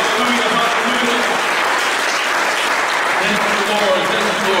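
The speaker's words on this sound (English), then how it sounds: "Let's give the Lord a hand clap for prayer." A church congregation claps for the Lord, dense continuous applause filling the room loudly from start to finish, with voices calling out faintly beneath it.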